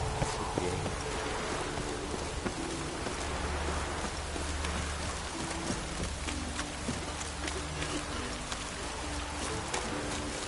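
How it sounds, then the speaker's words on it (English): Steady rainfall in The Witcher 3 video game, a dense constant patter across the whole stretch with soft hoof-like clops and a low ambient drone beneath, no talking. "The rain doesn't bother you, it seems."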